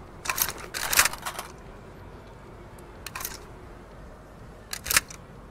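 HK416 rifle reload in the tactical shooter Ready or Not: a few quick, crisp mechanical clicks and rattles in short clusters near the start, middle and end, fairly quiet over a low background hiss.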